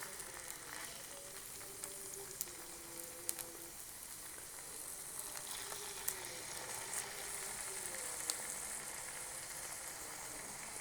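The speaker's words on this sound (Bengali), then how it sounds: "তেলটা গরম হয়ে গেছে, এখন মাছগুলো ভেজে নেব" Hilsa fish fry in hot oil with a continuous, even sizzle at close range, punctuated by occasional small pops.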